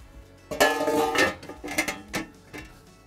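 A ceramic tagine-style cooking pot gets its lid set on at a wood-fired outdoor cooking spot: a close, clattering knock of ceramic followed by several lighter clinks and taps as it settles.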